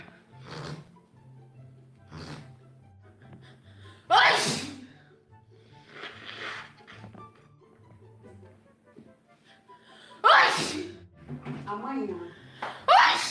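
Repeated loud sneezes from one person during a bout of rhinitis, bursting out several times at irregular intervals between quieter breathing and vocal sounds, with talking heard around them.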